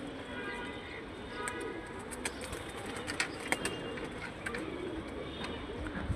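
Pigeons being caught outdoors give soft, low coos and rustling amid steady background noise, with a few sharper clicks and flutters standing out.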